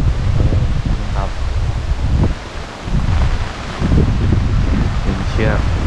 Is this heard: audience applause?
no